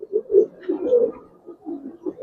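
Giribaz pigeons at a farm cooing nearby, a series of low throaty coos in uneven pulses, fairly loud and clear against a quiet background.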